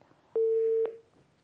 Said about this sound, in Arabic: الخط اتقطع